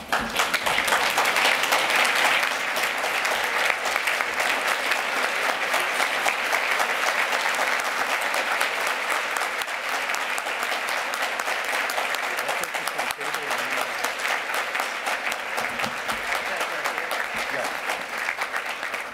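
An audience stands and applauds a Hall of Fame inductee at an induction ceremony, with loud, dense, sustained clapping that stays steady throughout and tapers only slightly toward the end.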